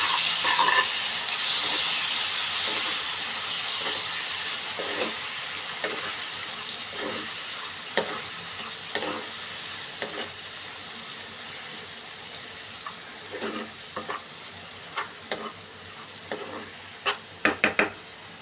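Dal fries in a pan with onion paste, giving a soft, steady sizzle that fades slightly over time, while a spoon scrapes and taps against the pan in scattered strokes that bunch together near the end.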